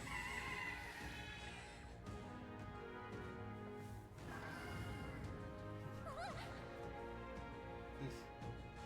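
A strange bird creature closes in during a Metaphor: ReFantazio fantasy game battle, heard as loud squawking, crowing cries over a dense orchestral game score, with sharp rising calls near the end.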